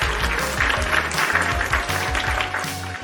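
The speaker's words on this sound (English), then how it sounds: "Round of applause for Marie" A small audience on a podcast set claps, giving a brief, moderately loud burst of applause over a low electronic hum, with no speech on top.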